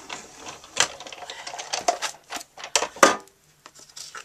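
A 3D embossing plate cranked through a manual embossing machine while making a card, giving a close series of irregular clicks, creaks and grinding bursts over a few seconds, with short quiet gaps.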